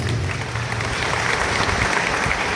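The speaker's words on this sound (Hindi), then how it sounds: "तो उसके लिए प्लीज जोरदार ताली बजा दीजिए।" Loud, dense crowd applause at a political rally in a grain market, sustained clapping from a large gathering with a low rumble underneath.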